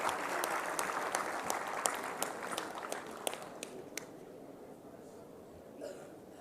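An audience at a GSFC University oration applauds Mr. Puri with a full burst of clapping that thins and fades out after about four seconds, leaving a quiet room.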